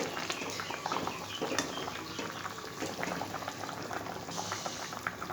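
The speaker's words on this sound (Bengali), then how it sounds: "পাঁচ থেকে 7 মিনিট ধোকাটা ফুটবে।" A vegetarian dhoka curry made of lentil cakes bubbles steadily in a pot, a continuous busy boil with dense popping and gurgling at close range and no voices.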